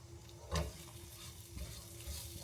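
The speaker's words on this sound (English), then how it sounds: "just listen to that sizzle" A brown sugar and cinnamon mixture sizzles quietly in a pan for a French toast casserole, a soft steady crackle with a few stirring scrapes.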